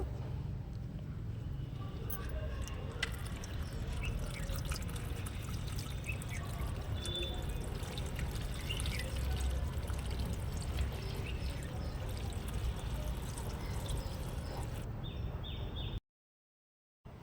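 Water is poured steadily into a waterlily pot over a plastic cover placed on the planted soil, making a continuous splashing trickle close by that runs unbroken for about sixteen seconds before stopping.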